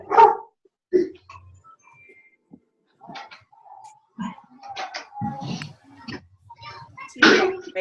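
Small pet dogs bark in sharp, loud bursts at the start and again near the end, with quieter yips and whimpers between, while a person talks nearby.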